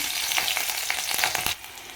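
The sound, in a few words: green chilies frying in oil with spices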